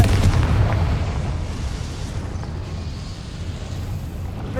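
A Confringo fire spell bursts in the video game Hogwarts Legacy, a heavy booming blast at the start that rumbles and fades into a low, noisy tail.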